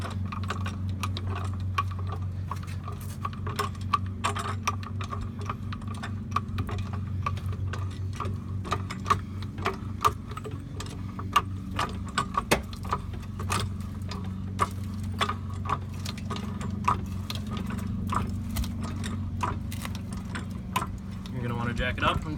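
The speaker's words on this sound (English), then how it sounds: "and you're going to want to jack it up." A hydraulic jack is pumped to lift a car for a tire rotation, making a steady run of close mechanical ratcheting clicks over a low hum.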